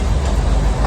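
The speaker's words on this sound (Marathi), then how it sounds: "मागे आपल्या ट्रेन आली म्हणून थांबलो आपण इथे बघा" Matheran toy train arriving at a hill station, a steady low rumble of the narrow-gauge train rolling close by, heard alone with no talk.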